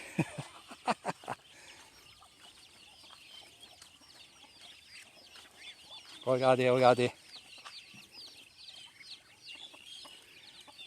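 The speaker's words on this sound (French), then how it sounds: "Ah, il y a des poussins, des poules aussi." Hens and chicks on a duck farm among Thai rice fields, with soft chirps and clucks throughout and a loud, harsh squawk burst partway through. A few sharp knocks come early, and a voice speaks briefly.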